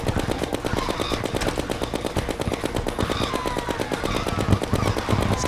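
Rapid, continuous gunfire from Terraria with the Calamity Mod, a dense, steady rattle of repeated shots lasting throughout without pause, loud and close with no talking.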